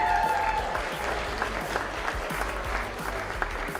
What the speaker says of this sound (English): One more round of applause for Oregon Davis Junior Senior High